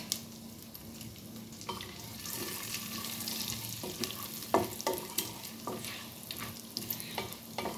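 Whole cumin seeds, cinnamon and black cardamom crackling and sizzling in hot oil for jeera rice, a bright steady fizz with a few sharp pops and utensil clinks, close up.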